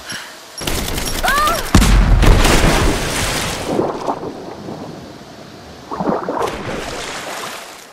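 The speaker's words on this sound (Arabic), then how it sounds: "انفجار وشيك" A booming explosion from the video game Rise of the Tomb Raider, a heavy low blast that erupts loudly and rolls off into rumbling debris and wind-like noise, with a second smaller burst near the end.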